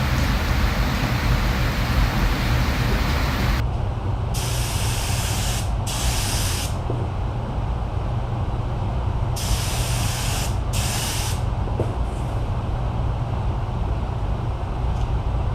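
A spray gun lays another coat of carbon-fibre-look paint film, a steady broad hiss that runs continuously in long passes with a few brief breaks, close and loud, with no talking.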